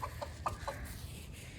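Backyard hens clucking near a person scattering greens for them to eat, several short close clucks in quick succession early on, then quieter scratching and ambient noise.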